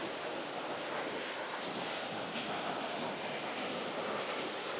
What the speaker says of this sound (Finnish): varokaa, täällä on vesiputous